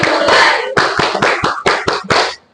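A classroom concentration clap game: a group of students claps in a steady pattern, a sustained run of clapping, then a string of sharp, evenly spaced claps, loud and close, with no talking.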